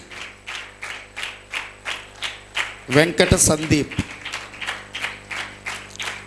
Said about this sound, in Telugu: వాళ్ళ పేరు చదువుతున్నప్పుడు చప్పట్లు కొట్టండి